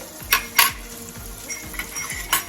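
Mustard seeds tempering in hot oil for sambhariya marcha, a Gujarati stuffed chilli dish, give a steady close sizzle and frying crackle. Rhythmic stirring scrapes cut through it, with a few sharper metallic clinks.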